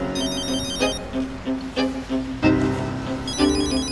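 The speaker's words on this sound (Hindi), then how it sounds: "बाबा का फोन। तो सुन लो ना।" Telephone ringtone in a Urdu-dubbed drama scene: a bright electronic tone repeating in short pulsing bursts, fairly close and clear with no talking over it.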